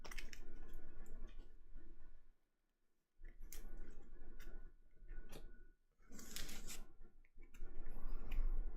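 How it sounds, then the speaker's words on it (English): Playing cards for a deck-building board game are shuffled by hand, giving soft, close riffling and rubbing bursts separated by brief pauses. "And shuffle it all up."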